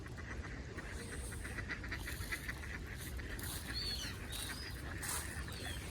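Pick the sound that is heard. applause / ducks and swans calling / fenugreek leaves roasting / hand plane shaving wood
ducks and swans calling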